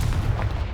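A Confringo spell blast in Hogwarts Legacy, a heavy booming explosion with a deep rumbling body that fills the whole short moment.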